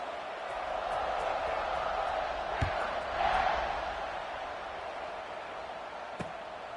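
Stadium crowd noise from College Football 26 swells into a broad, fairly faint cheer before a kickoff, holding steady as a roar with a few thuds and a brief surge midway.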